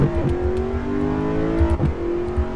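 An Audi R8 safety car engine from a racing video game, driven at the Ajaccio track, drones steadily at high revs with a smooth, continuous whine that rises and falls slightly, alone and close.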